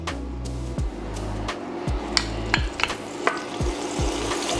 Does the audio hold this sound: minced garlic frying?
yes